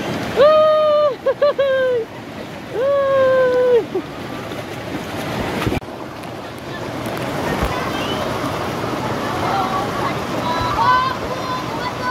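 Dhasgarh waterfall in Gondia, Maharashtra, sends up a steady, broad rush of falling water that fills the whole stretch, with a few sharp tonal calls rising over it in the first seconds.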